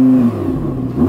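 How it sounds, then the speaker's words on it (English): Audi R8 rear-wheel-drive V10 sports car revved while stationary against its soft limiter, a loud, close engine note climbing and falling in pitch over about a second with no talking. "Now let's have some revs."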